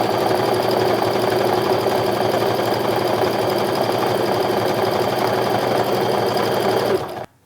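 A sewing machine stitching fabric wallet card pockets runs in a loud, steady, close mechanical whir with a rapid rhythmic needle chatter, then stops abruptly just before the end.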